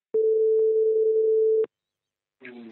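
Telephone line tone as a call goes out to a camera shop in Lyon: one steady hum-like tone lasting about a second and a half with small clicks, then silence before a voice begins on the line.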